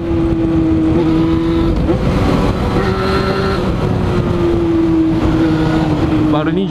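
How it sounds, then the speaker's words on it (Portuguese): A Yamaha FZ6N motorcycle engine drones loudly and steadily inside a tunnel, its pitch holding and then rising slightly as the reverberant roar fills the space throughout. "Barulhinho de túnel"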